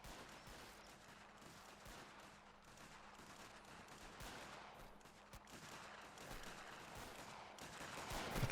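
Gunfire rings out during an Anglo-Zulu War mod event in a video game: faint, continuous crackling rifle fire with scattered volleys and no talking.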